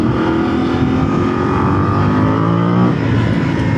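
Voge DS800X Rally motorcycle accelerating hard in second gear to overtake, a loud, close, continuous engine roar with a steadily rising pitch.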